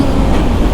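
Inside a moving passenger train carriage, a loud continuous low rumble of the wheels and track fills the space with steady rattling texture and no break, during a long budget journey toward Bali.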